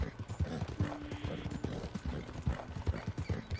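Horse hooves clip-clop in Red Dead Redemption II, a quick uneven run of close, punchy hoofbeats on the ground, with a faint whinny partway through.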